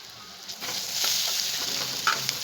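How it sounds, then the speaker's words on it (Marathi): Masala paste with turmeric, red chili and garam masala sizzling in a pan as it is stirred, a soft steady hiss with faint scraping, close and alone. "त्यात टाकूया हळद, लाल तिखट, थोडासा गरम मसाला, पेस्ट"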